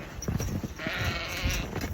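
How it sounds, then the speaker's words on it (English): Sheep bleat in a snowy field, several overlapping wavering calls close by, with a long sustained bleat through the middle, set against rustling and movement. "Here, sheep, sheep, sheep, sheep."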